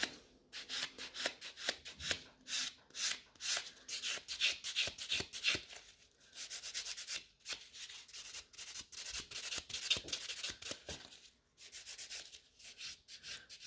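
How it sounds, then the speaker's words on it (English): Natural fingernails and the nail fold being filed, close rhythmic scratchy rasping strokes in quick bursts with brief pauses, no voices. "So this way I'm also filing the nail fold."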